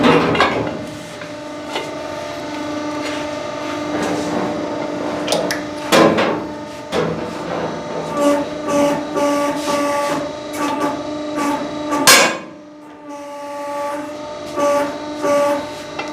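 A hydraulic alloy wheel diamond cutting and straightening machine runs with a steady tonal hum, broken by sharp metallic clanks and knocks at irregular intervals, loud and close.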